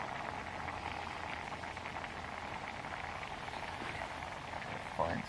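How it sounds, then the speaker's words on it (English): A pot of water simmering on a stove, turned down from a boil, gives a steady, soft bubbling hiss that runs evenly throughout, with a brief faint clink near the end. "Okay, so turn it down to simmer."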